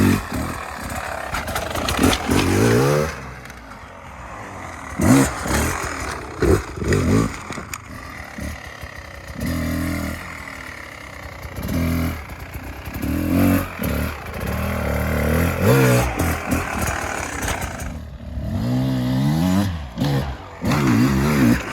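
An enduro motorcycle is ridden off-road, its engine revving and surging repeatedly with rising and falling pitch, loud and close, mixed with clatter and scraping from the terrain.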